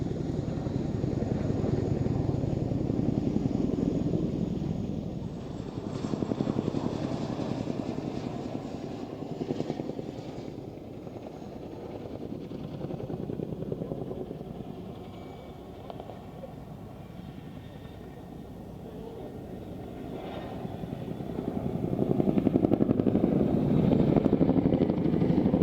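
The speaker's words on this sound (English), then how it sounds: "As the boys fly past sideways, you can see the ramp is down, with Flight Sergeant Sam Morris at the back" Military helicopter with its rear ramp down making slow sideways passes at the Waddington airshow, deep rotor thudding and turbine roar swelling and fading over time, heard from a distance, with no speech.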